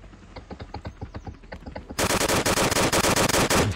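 Gunfire in the Roblox game Armored Ship Battles: a steady run of single shots gives way to loud, dense rapid automatic fire that continues to the end.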